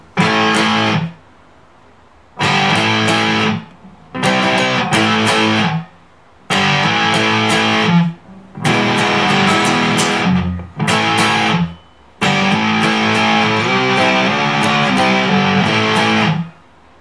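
Bursts of heavily distorted electric guitar chords, played in short phrases separated by brief silences, loud and close with no talking.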